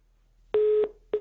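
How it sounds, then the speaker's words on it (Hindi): A telephone line gives a busy tone after the caller hangs up on a call during a news debate: one steady beep of about a third of a second, a short gap, then the next beep starting, loud and clear with no talk. "फोन रख दिया इन्होंने।"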